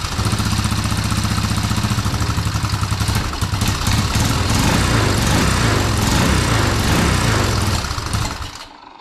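A Honda ATC185s three-wheeler with a modified top end runs loudly and steadily up close, a rough rapid putter that roughens midway before cutting off near the end.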